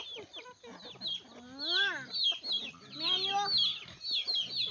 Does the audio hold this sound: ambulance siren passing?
no